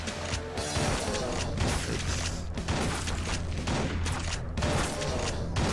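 Rapid gunfire from a standard gun in the top-down shooter game Crimsonland, a dense, continuous barrage of loud shots with booms and impacts and no clear breaks.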